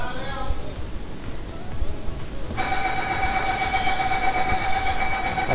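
An underground metro train on Mumbai's Aqua Line at SEEPZ station, the city's first underground metro station, sets up a steady electric whine partway through that holds over the hollow rumble of the platform.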